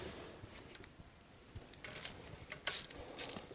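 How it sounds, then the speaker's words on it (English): A 1/4 inch socket wrench with extension and 10 mm swivel working a bolt loose on a Trailblazer 4.2L, quiet clicks and metallic ratcheting that grow busier toward the end, close and fairly soft. "I'm going to take my 1/4 inch socket, the extension, and a 10 millimeter swivel, and then remove the bolt"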